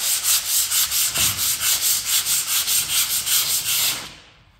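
Close-up hand sanding with a sandpaper disc makes a brisk, steady run of around seventeen rhythmic scraping strokes that stop near the end, with no talking.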